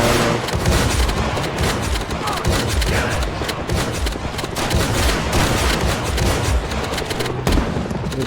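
Dense, continuous gunfire from the Project Zomboid video game, rapid overlapping shots and bursts rattling at a steady loud level throughout, with no pauses between volleys.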